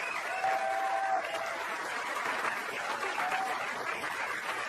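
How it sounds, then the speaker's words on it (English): An audience at a stand-up comedy special applauds for Amy Schumer, a dense steady wash of clapping from a large crowd that holds at an even level for several seconds. "Put your hands together for Amy Schumer!"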